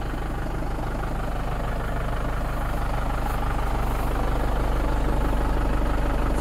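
Steady idle of a Kubota M8540 tractor engine at a hay field, a constant low diesel rumble with a faint mechanical tick, close and unchanging throughout.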